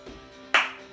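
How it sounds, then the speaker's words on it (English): A single sharp hand clap rings out close and loud in an indoor senior cardio fitness class, after a brief quiet lead-in. "that scared him when I clapped my hands"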